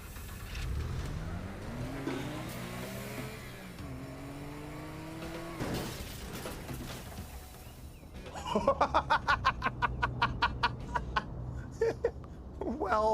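A car in a PS5 video game drives past with a rising engine whine and a tire squeal, and a burst of rapid rhythmic clicks comes near the end.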